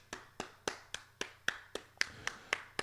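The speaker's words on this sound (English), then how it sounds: "I clap Leon Bailey." Steady hand claps, about ten sharp evenly spaced claps close by, during a watch-along of a Gold Cup football match between Jamaica and Suriname, over a faint low hum.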